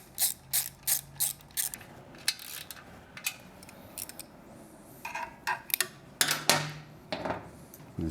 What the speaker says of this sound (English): 10mm socket, tighten up the clamp.